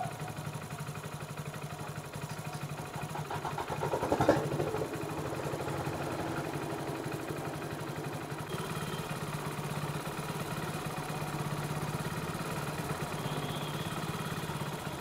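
A BS6 Splendor Xtec motorcycle engine idles steadily around 1400 rpm with a low, even chugging hum and a brief rev bump early on, recorded close with no talking.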